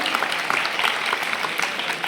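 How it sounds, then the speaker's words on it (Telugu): Girls at a government high school event on a child-marriage-free India programme clap in a brief, dense burst of welcoming applause, steady and fairly loud throughout. "చప్పట్లతో స్వాగతం పడదాం."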